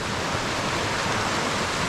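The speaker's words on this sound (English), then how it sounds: "There's a river through here." A river flowing along the Colorado Trail in the mountains gives a continuous broadband rush of water, steady and fairly loud with no pauses or other sounds.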